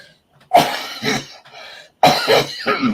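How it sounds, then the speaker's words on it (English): Two close, loud bursts of coughing, each a few harsh hacks, separated by a short quiet pause. "Excuse me for coughing"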